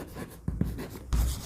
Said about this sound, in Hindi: तो लिखेंगे अगेन